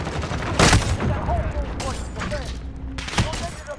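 Video game gunfire crackles in a shooter match, with several loud bursts and scattered shots close by. A voice talks over them.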